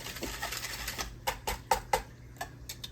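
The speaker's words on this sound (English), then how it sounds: "And we'll whisk this up right here. Break up that brown sugar." A whisk clicks and taps against a bowl while brown sugar is broken up into a meatloaf glaze, a quick uneven run of sharp close strokes.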